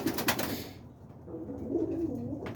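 Pigeons coo softly in a loft, low rounded calls repeating at a gentle pace after a brief flutter at the start, faint and close.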